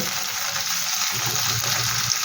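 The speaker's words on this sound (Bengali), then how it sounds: "পেঁয়াজটা একটু লাল লাল করে আমি ভেজে নেব।" Onions frying in a pan for spiced chira, a steady close sizzle with faint stirring scrapes, continuous and fairly even throughout.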